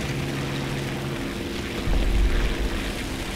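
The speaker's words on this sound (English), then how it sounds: "this is probably the worst biplane there is for turn fighting." Fiat CR 42 biplane engine in an arcade-mode flight combat video game: a continuous propeller drone that swells louder and deeper partway through, steady and close with no speech.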